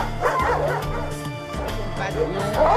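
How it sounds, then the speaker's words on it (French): A dog at an animal refuge gives a few short yips and whimpering barks close by, while people talk over it in the background. "il y a un chien qui peut être dehors"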